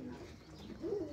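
A pigeon gives a soft, low coo near a water pot, a single faint throaty call rising at the end of a brief quiet moment.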